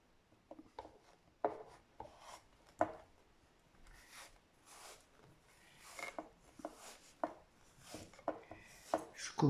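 Soft cutting and scraping of craft foam for a snowy popsicle-stick chalet roof, a series of irregular close, quiet strokes and rubs with small pauses.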